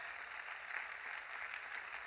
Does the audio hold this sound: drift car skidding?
no